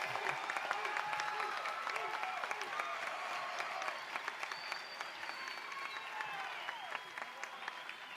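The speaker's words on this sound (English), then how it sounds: "Let's give them one last round of applause." Graduation audience of a high school class of 2021 applauding, dense sustained clapping from a large crowd with some cheering, moderately distant, with a voice speaking over it.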